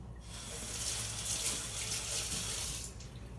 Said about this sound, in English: So what's the next step is you just rinse off the tray.